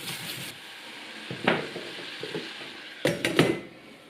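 Mushrooms in a pan of melted butter, a soft continuous sizzle with intermittent scraping and clinking of a utensil against the pan, close and moderately quiet, with no voices.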